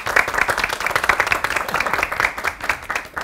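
Studio audience applause on a Spanish-language radio show, a steady wash of many hands clapping at moderate loudness for a few seconds, no voices over it.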